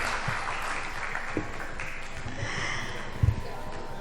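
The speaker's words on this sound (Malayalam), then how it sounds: "നല്ല കയ്യടി, നല്ല കയ്യടി." Audience applause at an Onam festival stage show, a dense steady wash of clapping from a crowd with a couple of louder thumps near the end, under a voice speaking.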